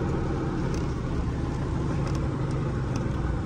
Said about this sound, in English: I just back the trailer around like that.